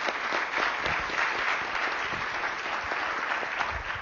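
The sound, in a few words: audience applause for Luciana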